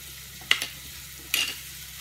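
Onions and vegetables stir-frying in a pan for whole wheat pasta, with two short scraping, sizzling bursts of stirring over a quiet low background, close by and without talk.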